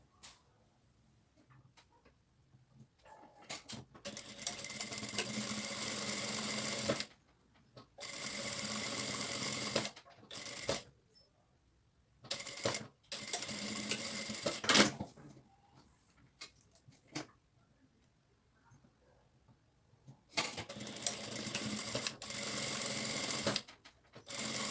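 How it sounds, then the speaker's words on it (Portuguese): Sewing machine joining two leftover fabric pieces into a lining, running in several separate bursts of steady stitching with short quiet pauses between them, close and fairly loud. "vou fazer essa costura aqui, então, unindo esses dois tecidos"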